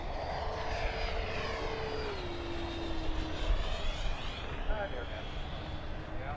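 A Taft Hobby Valkyrie 90mm electric ducted fan RC jet whines overhead, its pitch sliding downward as it passes, over a windy outdoor rumble.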